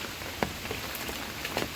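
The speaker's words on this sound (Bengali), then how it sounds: "প্রচুর বৃষ্টি হচ্ছে।" Heavy rain pours down during Cyclone Remal while fish are netted outdoors, a dense, loud, steady hiss with scattered sharper drop impacts, no voices.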